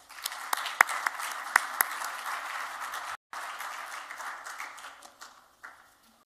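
An audience applauds to welcome Professor Gil Troy and Alex Traiman onto the stage, a steady sustained clapping with a few sharp louder claps near the start. It breaks off briefly, then resumes and fades out.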